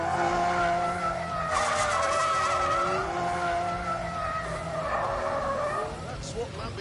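A Lamborghini in The Grand Tour video game skids hard, with long wavering tire squeals over engine roar, loud and close, while someone talks over it.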